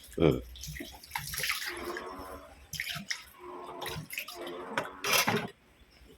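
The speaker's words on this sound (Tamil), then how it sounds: "தண்ணி ஊற்றி இதை உடம்புல கழுவிக்கலாம்" Water splashes and trickles in uneven bursts, like water being poured to wash fish, with a voice talking over it.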